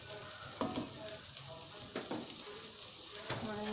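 A spoonful of butter melts in a hot pan for white-sauce pasta, producing a steady, moderately close sizzle with a few soft knocks and clicks, and no one speaking.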